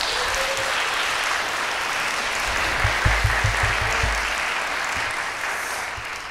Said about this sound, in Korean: 큰 박수 한번 보내주세요